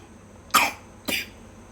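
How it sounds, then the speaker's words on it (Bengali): A child coughs twice, short and close, with a brief pause between the coughs in an otherwise quiet room. "দেখো তোমারও কাশি হচ্ছে তো"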